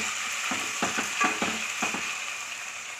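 Ginger and garlic frying for a mushroom biryani curry in a pan, a steady close sizzle broken by several scraping stirs and clinks of a spoon against the metal, with no talk.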